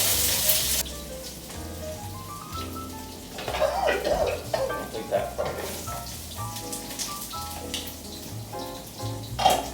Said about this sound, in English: So you throw the garlic and chilies in. You can hear them sizzling right away.